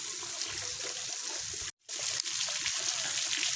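Water pouring steadily into an empty cement tilapia pond, a broad continuous rushing trickle that briefly cuts out for a moment before resuming at full strength.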